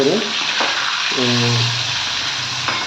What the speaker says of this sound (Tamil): எண்ணெய் சூடான பிறகு நம்ம இந்த பேட்டர் பண்ணி வச்சுருக்கிற ப்ரான்ஸை வந்து அதை போட்டு நல்லா